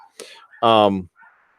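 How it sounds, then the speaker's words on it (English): Dogs coming home late in the evening bark in the background, a short yip followed by one louder, longer bark and a faint trailing whimper. "you're gonna hear the dogs in the background because they're coming home"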